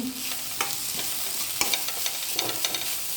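Grated coconut sizzles and is stirred in a hot pan for a vegetable side dish, with a steady close frying hiss broken by scraping spoon strokes and no talk.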